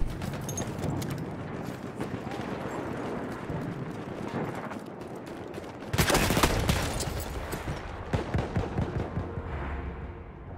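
Shotgun fire rings out in a battlefield setting, repeated blasts mixed with wider distant gunfire and chaotic combat noise, with a sharp, heavy volley bursting in loudly partway through.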